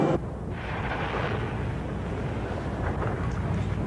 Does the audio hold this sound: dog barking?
no